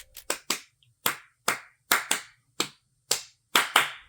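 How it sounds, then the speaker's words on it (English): Live hand claps recorded for a drum track: about a dozen sharp, dry single and paired claps in a loose rhythm, close and isolated, each with a short decaying tail. "layered them up with live claps that I recorded myself"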